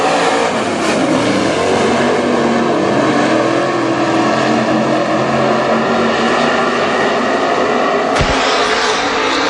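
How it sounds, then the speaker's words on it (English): WISSOTA super stock race cars roar around the oval at Granite City Speedway as a heat race gets the green, a loud, dense pack of engines droning continuously close by with no gaps. "Final super stock heat takes the green."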